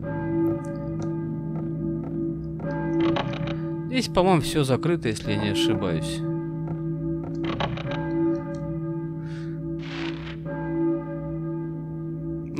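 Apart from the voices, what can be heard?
bell ringing in the video game Silent Hill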